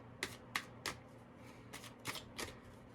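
Oracle cards being shuffled by hand, a series of quiet crisp riffling flicks in two clusters of about three, close and soft against a faint room hum.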